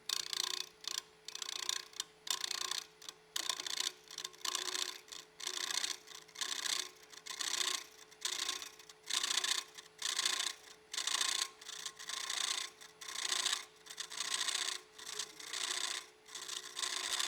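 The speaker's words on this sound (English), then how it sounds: "I just sort of feel the wood with the back of the bevel or the back of the gouge, and then I could just start cutting." A carving gouge cuts into a wooden lid in a steady run of short, rasping strokes, each stroke separated by a brief pause, heard close and fairly quiet with a faint hum behind.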